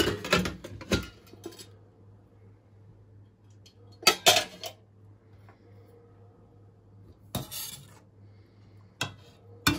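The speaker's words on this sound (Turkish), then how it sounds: "kapağını açabiliriz" A metal pressure cooker lid clatters and scrapes as it is twisted and lifted off the pot, producing several sharp metallic knocks separated by quiet gaps, close and moderately loud over a faint hum.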